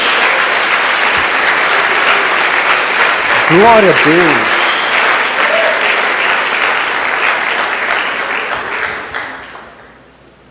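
Church congregation giving a sustained, loud round of applause that fades out near the end, with voices calling out over the clapping.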